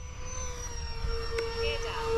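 An E-flite or FMS A-10 model jet with a 64mm or 70mm electric ducted fan flies touch-and-goes, giving a steady whining drone at moderate distance with a faint rising pitch near the end.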